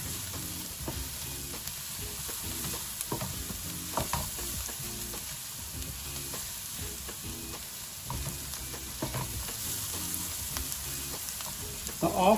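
Masala with chopped green chilies and curry powder sizzles steadily in a pan for stuffed pakoras, with repeated scraping stirs and light clinks throughout.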